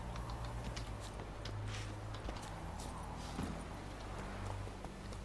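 Horse hooves clip-clop faintly in The Witcher 3: Wild Hunt, a steady patter of footfalls running under low background game ambience with no talk.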